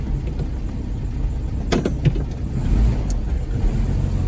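A Volkswagen Beetle driving after a clutch repair, its engine a steady low drone with a few brief sharper knocks and rattles partway through, no talk.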